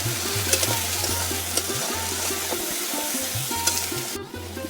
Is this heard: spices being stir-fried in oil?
yes